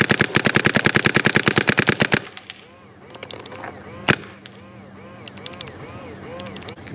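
Rapid bursts of shots from a Bob Long Intimidator paintball marker with a carbon fiber barrel, firing at 10 balls per second: a loud, even volley for about two seconds, then a single sharp pop and faint mechanical clicks.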